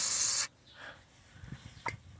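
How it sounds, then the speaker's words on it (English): WD-40 penetrating oil sprayed from an aerosol can onto seized brake caliper screws during front rotor replacement on a Kia Optima; one loud, steady hissing burst that cuts off abruptly, followed by faint handling clicks. "I'm gonna have to spray some WD-40 on this"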